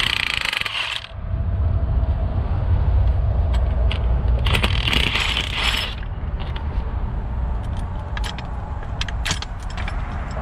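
Wrench ratcheting while loosening a nut on the suspension of a Mercedes-Benz CLA250, close metallic clicks and clanks in irregular bursts over a steady background rumble, with no one speaking.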